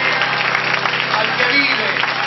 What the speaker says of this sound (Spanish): aplauso al Rey.